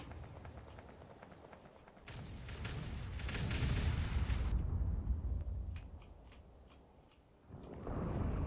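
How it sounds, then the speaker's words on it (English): Booming artillery shell explosions in the video game Factorio: a rolling series of heavy blasts swells to a dense, rumbling peak, fades, then returns with renewed thunder near the end, moderately loud. "Look, there we go. Big explosions."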